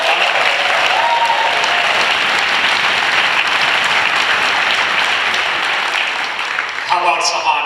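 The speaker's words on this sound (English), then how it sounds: "Can we have a round of applause for them?" An audience at a Democratic rally in Acton gives sustained, loud applause for facility staff, a dense wash of clapping that holds for several seconds before tapering off as a voice begins.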